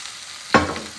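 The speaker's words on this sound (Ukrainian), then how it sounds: "Тепер я картоплю викладаю прямо до нашого м'яска" Boiled potatoes drop onto meat in a hot pan, giving two quick sizzling bursts of frying about half a second apart, close and fairly quiet.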